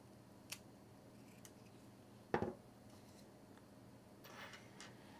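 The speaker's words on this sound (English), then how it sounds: "So you'll want to cut off the metal zipper stop first." A single sharp snip of scissors cutting off a metal zipper stop on a number three zipper during bag sewing, a brief crisp cut in a quiet room with a few faint ticks and rustles around it.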